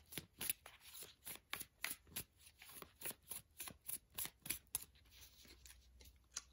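Tarot cards shuffled close up, a rapid run of crisp riffling bursts in a steady rhythm, clear and alone with no talking.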